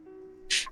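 A person sneezes once, a short sharp burst of breathy noise after a quiet moment indoors.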